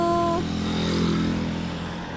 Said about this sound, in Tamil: வண்டி போகிறதை பார்